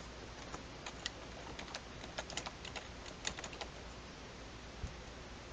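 Sparse, quiet clicks of typing on a computer keyboard, a few irregular keystrokes scattered over several seconds with a short burst in the middle, alone with no voices.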